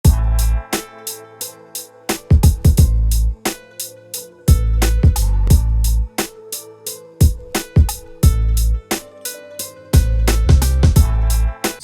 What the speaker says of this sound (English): the next thing I did was I added the snare right here